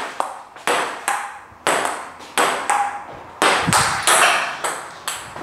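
Ping pong ball struck back and forth in a table tennis warm-up rally, a steady run of sharp, bright clicks at roughly even spacing, close and clear with no talk.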